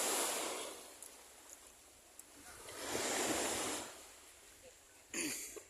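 Ocean waves wash onto the seashore in slow, fairly faint surges that swell and fade, with a fresh breaking wave near the end and light wind in the background.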